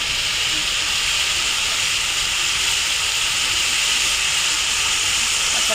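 Ginger-garlic paste sizzles steadily as a little water hits the hot pan while cooking chicken with pointed gourd; a loud, continuous hiss with no break.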